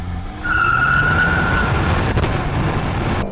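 A Renault Megane GT launches hard using launch control, its engine note climbing quickly while the tires briefly squeal as the car pulls away, loud and close.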